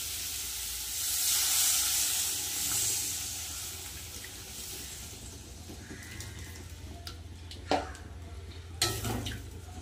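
Water poured into a pan of eggplant and spices, producing a steady hiss and sizzle that swells early and then eases into a softer simmer, with a couple of sharp clinks near the end.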